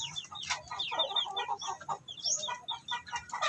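Several Shamo and Asil cross chickens cluck and chatter nearby in a backyard in a steady, overlapping stream of short calls, with faint low background noise underneath.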